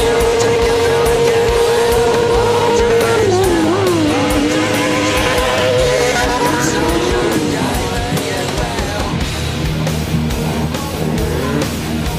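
Track motorcycles at a stunt show rev hard and spin their tires, loud engine whines rising and falling in pitch with squealing rubber, continuous and close throughout.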